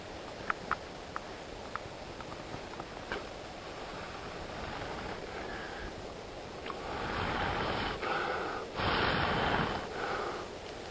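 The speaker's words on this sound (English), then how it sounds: "all you gotta do is just blow this into a flame" Someone blows a friction-fire ember into flame, with a few soft clicks followed by sustained breathy gusts that swell louder toward the end, close to the ear.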